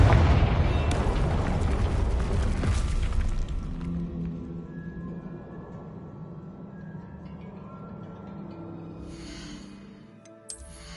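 Bombarda and Confringo spell explosions in Hogwarts Legacy, a loud booming blast that rumbles and slowly fades, with a small pop near the end.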